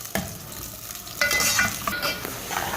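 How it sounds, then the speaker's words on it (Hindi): Sliced onions fry in hot oil for beef haleem, cooked only until pink: a steady close sizzle with stirring scrapes, growing busier and louder partway through, with no voices. "उसमें हम फ्राई करेंगे प्याज को, लेकिन हम पूरा नहीं पकाएंगे प्याज को, सिर्फ इसको पिंक होने तक तेल में पकाएंगे"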